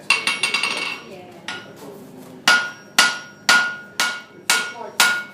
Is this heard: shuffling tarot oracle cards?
no